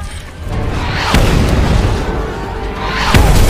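Heavy booming bomb blasts over a constant rumbling roar, with two sharp explosive bursts standing out, the second near the end.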